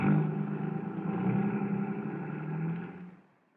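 A car engine rumbles and revs as the vehicle pulls away, fading out after about three seconds, a radio-drama style driving-off effect with no voices.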